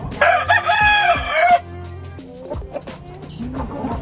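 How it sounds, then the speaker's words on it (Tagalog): A rooster kept with pigeons in the USA, bound for shipment to the Philippines, lets out one loud, close crow lasting over a second, followed by softer clucks and other fowl calls in the background. "So, nagsiship siya ng manok."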